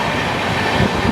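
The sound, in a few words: passenger train overtaking the Kamrup Express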